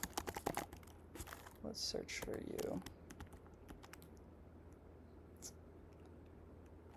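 Rapid clattering keystrokes on a computer keyboard during a coding session, dense bursts in the first few seconds then sparse taps, with a voice speaking briefly over the typing.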